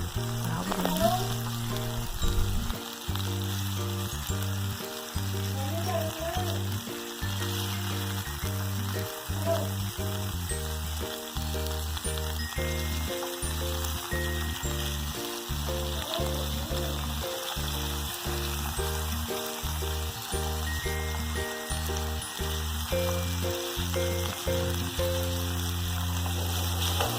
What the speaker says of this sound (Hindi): तो इसको जब फ्राई होने के लिए रखना है तो बिल्कुल भी इसको टच नहीं करना है, हिलाना नहीं है इसको